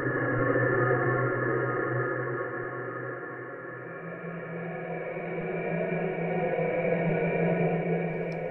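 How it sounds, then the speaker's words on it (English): Serum synthesizer's pitched noise oscillator soloed in a patch, a steady breathy hiss with a tonal, pitched band running continuously at even loudness with a slight swell, no other sounds. "the final section, the oscillator section here, is the noise oscillator"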